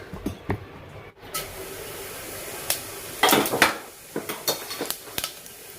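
Cumin seeds dropped into hot oil already seasoned with asafoetida give a steady hiss, with clinks of a utensil against the pan scattered throughout, heard close.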